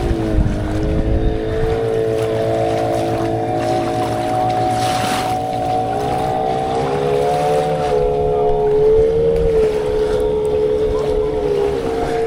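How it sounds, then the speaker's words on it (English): A motorboat engine drones steadily on a lake, its harmonic hum rising slightly in pitch partway through, with wind buffeting the microphone throughout and no voices. "that's actually the boat"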